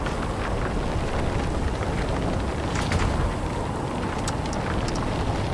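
Stormy rain in a video game, a steady broadband wash of rainfall holding at an even level throughout, with a few faint higher crackles and ticks scattered over it and no talking.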